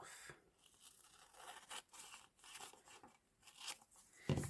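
Paper being cut with scissors while making a folded paper star, giving soft, quiet crisp snips and rustles in a short irregular run, with a slightly louder crunch at the end.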